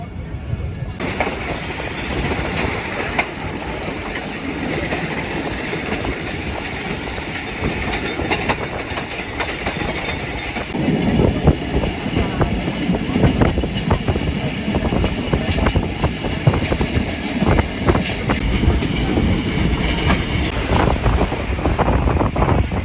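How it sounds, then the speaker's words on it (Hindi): A Pakistani passenger express train between Faisalabad and Lahore rumbles steadily along the rails with rhythmic clattering and wind buffeting, loud and continuous, growing heavier partway through. "मोमिन रेलवे स्टेशन पर हमें क्रॉस पड़ा है काराकोरम एक्सप्रेस का।"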